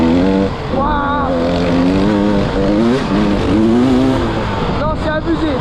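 An enduro motorcycle, a 300 trial or 300 EXC, revs hard on a forest trail with its rear wheel sliding, the engine pitch rising and falling in strong surges, close and loud while a rider talks over it.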